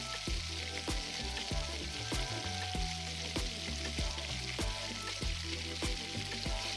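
Shiitake mushrooms and vegetables fry in a pan for a Korean rice dish, giving a steady close sizzle with repeated sharp clicks and taps from a utensil, and no voices.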